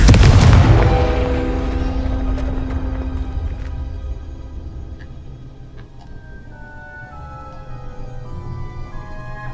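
In the Hogwarts Legacy video game, a Confringo fire spell lands with a loud booming blast, then decays into crackling and scattered ticking debris over several seconds with a soft game-music drone underneath.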